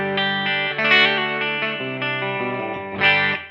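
Clean electric guitar with a warm, rounded humbucker tone, playing sustained notes and chords that ring into each other, with no voices.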